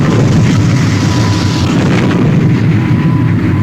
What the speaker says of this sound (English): Firing engines 1 and 2.